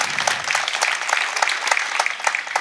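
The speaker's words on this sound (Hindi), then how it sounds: "ताली बजाओ तो ढंग से बजाना," Audience applause at a Hindi poetry recital, a dense steady patter of many hands clapping close by for the whole stretch with no talk over it.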